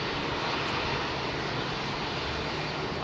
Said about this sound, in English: So this American Airlines 777-200, one of the older aircraft in their fleet, powered by Rolls-Royce Trent